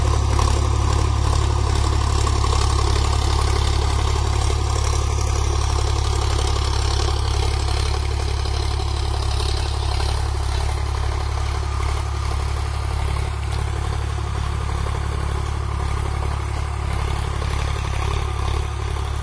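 A 50 HP Sonalika DI 745 power-steering tractor pulls a nine-tine tiller through a field during groundnut sowing, its engine a loud, steady low rumble with a continuous clattering drone and no talk.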